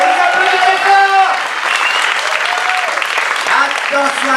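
An audience at an improv theatre festival claps loudly and steadily for the performers, with voices talking over the applause throughout.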